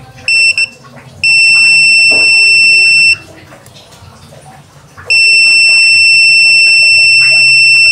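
Loud, shrill electronic buzzer tones from a multimeter in buzzer mode, testing an emergency light, sound in long bursts separated by short pauses, with a quick stuttering beep at the start.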